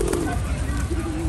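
Soft, low pigeon coos repeat against a steady background of outdoor noise, close by, in St. James's Park, London.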